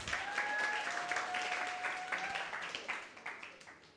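An audience claps for a woman at a church service in Mumbai. The clapping is moderate and steady and fades over four seconds, and a faint tone and a few voices sound beneath it.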